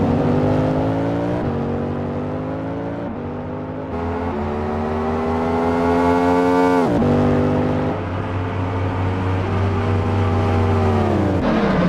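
A hypercar engine heard from on board during a sim racing event at Road America, loud and steady, with its pitch climbing through each gear before dropping sharply at the shifts.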